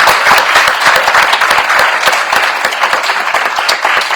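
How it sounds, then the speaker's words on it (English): A loud, sustained round of applause from the audience for research award recipients at an annual meeting, with dense, steady clapping throughout. "let's give all of our research award recipients another round of applause"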